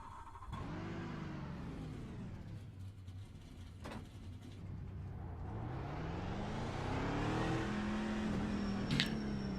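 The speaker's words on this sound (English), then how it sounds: "let me turn the engine noise down." Continuous car engine in a video game, revving and rising in pitch as the car accelerates, steady and fairly loud throughout with no talk.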